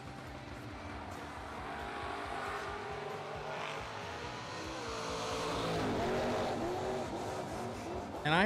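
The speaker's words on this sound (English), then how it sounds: "And I hear some gas pedal working down there." Drag racing cars at a racetrack during a Cap City 50 event rev and accelerate, a roaring engine rising in pitch and volume then swelling louder near the end, heard from a distance without talk.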